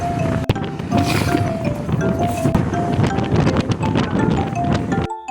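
Strong wind roars steadily through an open-window, non-air-conditioned bus in the Philippines, with buffeting gusts, light rattling and clinking, and the engine humming underneath throughout.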